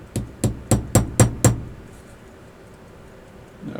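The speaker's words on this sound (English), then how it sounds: "The flat part of my hammer here." A hammer taps a watch strap pin six times in a quick, even rhythm, sharp close clicks that then stop and leave near silence.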